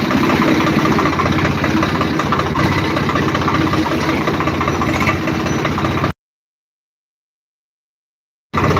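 A steady, heavy tractor engine rumbles continuously for about six seconds, then cuts to silence before briefly starting up again at the end.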